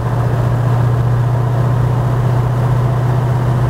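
Tuned vehicle engine with a DPF and flash tune, a steady low V8-like exhaust rumble droning while accelerating, close and constant without any talk.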